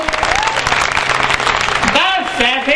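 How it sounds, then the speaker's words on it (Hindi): Audience applause rolls steadily through a Hindi poetry gathering (kavi sammelan) in Sampla, dense and close, with a voice talking over the clapping near the end. "तालियां जरूर जरूर बजानी है"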